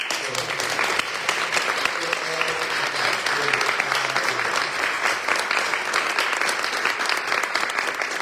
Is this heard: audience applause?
yes